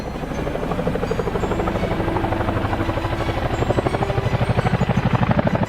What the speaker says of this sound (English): Ingen was prepared for this and sent in an attack helicopter